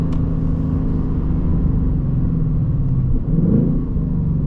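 A deep V8 exhaust on a 2024 Ford Mustang GT with stock exhaust rumbles steadily close by, then blips up in pitch near the end as the engine drops a gear.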